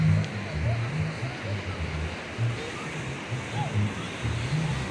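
Surf breaks at Rosarito Beach in Mexico on a crowded Thanksgiving weekend. A constant wash of waves rolls and rumbles with a low, pulsing roar, steady and moderately loud, with faint crowd noise mixed in.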